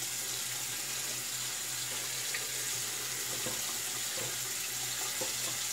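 A tap runs steadily while a shaving brush is rinsed, giving a continuous close hiss and splash of water with no pauses throughout.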